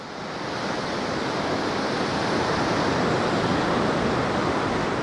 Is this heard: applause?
no